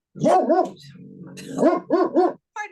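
A dog barks close and loud, several sharp double barks in quick bursts with a low growl between them, then one last short bark.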